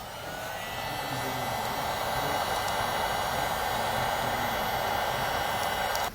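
A heat gun blows over crimped wire connectors during the wiring of an LED trailer tail light. A steady, close whooshing hiss holds at an even level for the whole stretch, with no talk.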